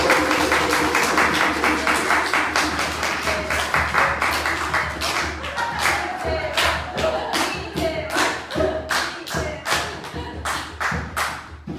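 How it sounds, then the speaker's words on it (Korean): Applause and clapping from a church congregation welcoming a speaker to the front during a Sunday service, a sustained round of many hands that thins out into separate claps toward the end. "큰 박수로 환영합니다."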